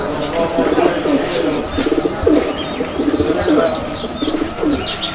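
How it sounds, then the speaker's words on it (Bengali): A pair of racing pigeons coo in repeated soft, throaty rolling calls, close and fairly loud, with faint chirps from other birds around them. "মাশাআল্লাহ অনেক চমৎকার ডাকের একটা কবুতরের জোড়া"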